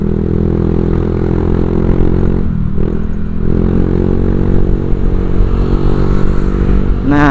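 Motorcycle fitted with a ZRC aftermarket exhaust, recorded on the road: a loud, steady engine drone with strong low harmonics, dipping briefly midway, then a sharp rev rising near the end.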